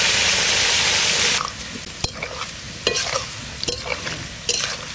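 Food frying in a pan with a loud sizzle for about the first second and a half, followed by quieter frying broken by several sharp scrapes and clinks of the stirring utensil.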